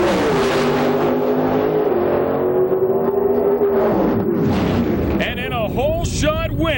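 Pro drag race cars roar off the line together in a semifinal round at an IHRA national event, a loud continuous engine howl with pitch rising and falling, while an announcer talks over it.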